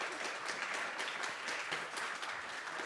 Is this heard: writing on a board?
no